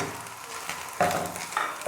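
Whole spices, garam masala, turmeric and dried red chilli frying in hot oil for stuffed chili pakora filling, a steady close sizzle with brief louder bursts as the mixture is stirred, no voices.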